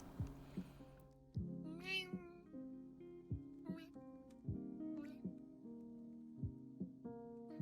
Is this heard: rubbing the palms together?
no